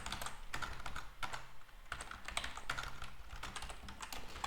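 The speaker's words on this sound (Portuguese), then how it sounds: "E eu vou digitar aqui meu componente" Fingers tapping on a computer keyboard while writing React Native code, a steady run of quick, close clicks with irregular spacing and no talking.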